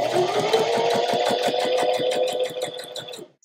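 A sewing machine stitches forward along a fabric seam after a back stitch, its needle thumping in a fast, even rhythm close up before the motor runs down and stops near the end.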